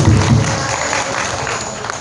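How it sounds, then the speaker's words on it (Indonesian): Audience applause at an alumni event rehearsal, a brief steady wash of many hands clapping at once, fairly loud and even without a clear finish. "Tepuk tangan dulu untuk Sekum."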